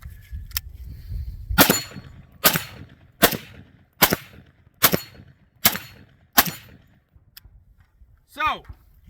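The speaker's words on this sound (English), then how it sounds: "definitely much more pleasant to shoot on the suppressed setting" A Sig Sauer MCX Virtus patrol rifle fires on its suppressed gas setting at an outdoor range, giving about seven sharp, evenly spaced cracks, each followed by a short ring, with a metallic ping near the end.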